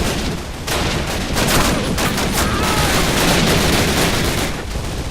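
Heavy, continuous gunfire in Call of Duty, a loud wall of overlapping rapid shots that runs without a break through the whole stretch.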